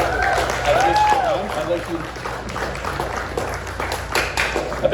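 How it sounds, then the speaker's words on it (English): A ceremony crowd applauds a new Eagle Scout with steady clapping that runs throughout, while a voice speaks over it near the start. "Give him a round of applause"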